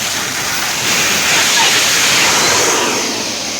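Water gushes at high pressure from a borewell roughly 800 feet deep at a drilling site, a loud, steady, hissing roar that fills the whole stretch without a break.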